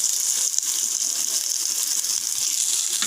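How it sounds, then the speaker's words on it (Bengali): Two chopped onions dropped into hot oil, giving a steady bright hiss and sizzle close by, continuous with no talking. "এখন এটা তেলের মধ্যে দিয়ে দিচ্ছি।"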